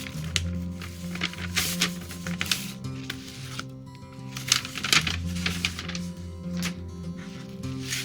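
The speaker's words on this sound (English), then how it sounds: "So let's get it out of the envelope." Paper rustling and crinkling as a 1963 Ideal Toy 1:400 SS France model ship kit is slid out of its paper envelope, close and fairly steady, with soft handling taps throughout.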